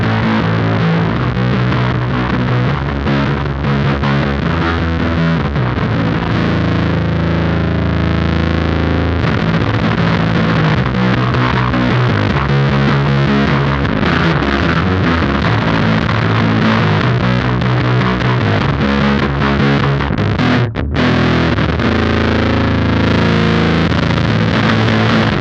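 Heavily distorted electric guitar through a distortion pedal on its Rat setting plays dark, gritty chords, loud and continuous for about twenty-five seconds.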